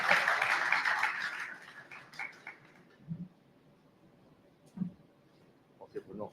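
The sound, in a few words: audience applause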